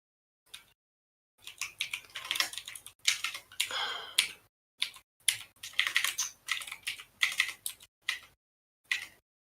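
Fingers type on a computer keyboard in quick clattering bursts of keystrokes separated by short pauses, close and fairly quiet, with no talk.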